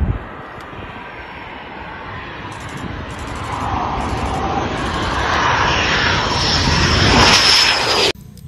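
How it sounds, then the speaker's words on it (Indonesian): A Sriwijaya Air passenger airplane roars steadily, its engine noise swelling louder and brighter as it draws nearer, a broad continuous rumble with no talk over it. "Lihat, ternyata ini adalah pesawat terbang teman-teman."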